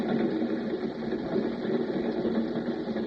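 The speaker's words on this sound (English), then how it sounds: "He listened to the sound of the wheels on the rails" Train wheels running over the rails make a steady, loud rumbling clatter that carries on without a break.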